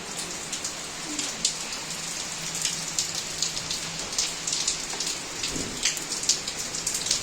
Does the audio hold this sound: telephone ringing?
no